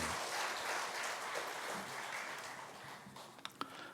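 A church congregation claps in a dense, steady wash of applause that thins out toward the end, leaving a few last scattered claps.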